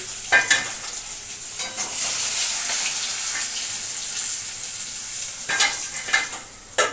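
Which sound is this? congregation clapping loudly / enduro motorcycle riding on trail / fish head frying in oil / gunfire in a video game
fish head frying in oil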